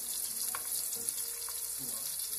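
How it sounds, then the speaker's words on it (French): A tomato cooking gently in butter in a small frying pan; a soft, even sizzle with faint crackles heard close up, and no talking. "Je la fais dans cette petite poêle avec un petit peu de beurre"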